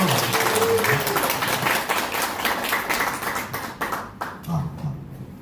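Audience applause greets a guest lecturer at a Vietnam global seminar lecture, dense and steady clapping from a crowd that slowly thins toward the end, with a brief voice near the close.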